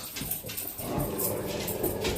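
A dog named Zuma whimpers and whines in thin, high bursts over a rough, noisy indoor background, fairly near and moderately loud.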